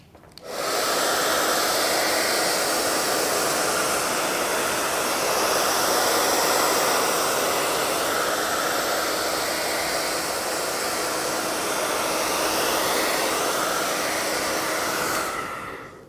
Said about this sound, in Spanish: se nos vuela todo con el secador